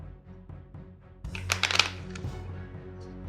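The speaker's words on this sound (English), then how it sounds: "Quick shuffle." A deck of Marvel Legendary game cards given a quick shuffle, a brief crisp riffle burst of card flutter and snaps, close up in a quiet room.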